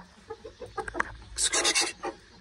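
A broody hen clucks close by in a series of short, throaty clucks that build into a louder, raspy burst of agitated calls before tapering off.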